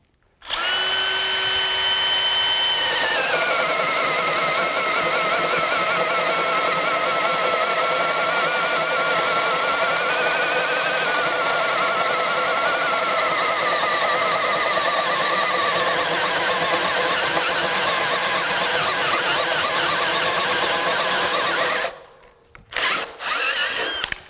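A DeWalt FlexVolt power tool, a 999 model, whines loudly and steadily for about twenty seconds as it cuts all the way through material held in a vise, then cuts out into a few brief stuttering bursts near the end.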